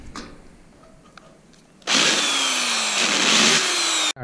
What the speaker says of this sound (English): Just gonna deeper those holes. I'm using a bigger drill bit.